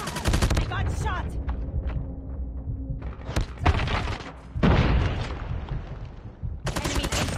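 Rapid bursts of video game gunfire crackle in close, dense volleys with heavy booms, separated by short lulls, while a player's voice is heard talking over the action.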